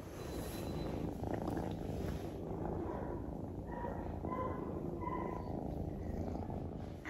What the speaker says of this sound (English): did you ask to hear some more purr?